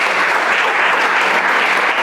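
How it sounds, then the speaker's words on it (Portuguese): A church congregation applauding for Jesus, dense steady clapping from many hands filling the room at an even, loud level throughout. "Tem alguém aqui para dar um aplauso a Jesus aí?"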